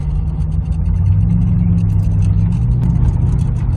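A Ford Crown Victoria V8 engine downshifting into third gear through paddle shifters, a loud, steady low engine drone with a slight rev change, close up, with no talking.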